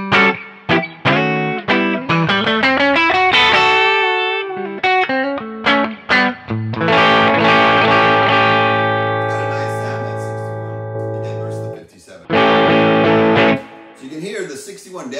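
An electric guitar runs through a Quilter Superblock US amp with added gain and reverb. It plays a run of picked notes, then sustained chords that ring out with a long reverb tail, loud and close.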